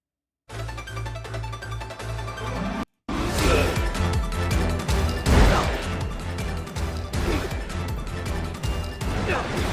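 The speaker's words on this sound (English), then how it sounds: "It's just keyboard smash and wiggle mouse fast." A computer keyboard gets smashed hard and fast, with dense clattering bursts of key strikes and thumps that continue nearly throughout after a short gap near the start.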